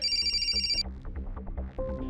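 A mobile phone ringtone in a TV crime drama plays loud, bright and repeating for under a second, then cuts off, leaving low background sounds.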